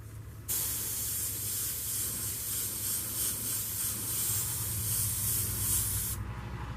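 A steady airbrush hiss starts abruptly and sprays continuously for about six seconds, then cuts off, with a low hum underneath.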